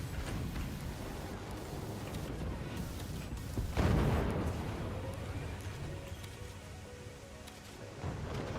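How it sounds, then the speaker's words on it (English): Explosions and artillery-like booms in the physics-based fort battle game Forts, a continuous rumbling barrage with a louder blast near the middle, dense and heavy throughout. "It's just explosions."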